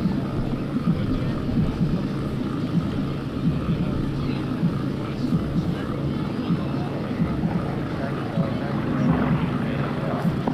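A Nanchang CJ-6A trainer with a nine-cylinder radial engine passes at an airshow, a steady, fairly loud rumbling drone with wind noise that holds throughout without a clear rise or fade.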